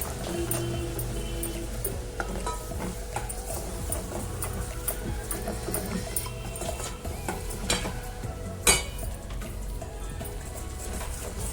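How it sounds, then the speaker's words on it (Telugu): Ginger garlic paste fries in hot oil for a prawn pickle, giving a steady soft sizzle with occasional scraping stirs and one sharp clink, close and continuous without talk. "ఈ అల్లం వెల్లుల్లి పేస్ట్ బ్రౌన్ కలర్ వచ్చేంత వరకు ఇలా ఆయిల్లో వేయించుకోవాలి."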